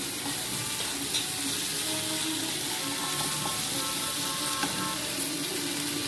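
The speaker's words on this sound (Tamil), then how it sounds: "கொஞ்சம் இஞ்சி பூடி சேர்க்குறோம்." Ginger and garlic paste sizzle and fry in hot oil with onions in a pan for an egg masala, a steady, close, continuous crackle with faint stirring scrapes throughout.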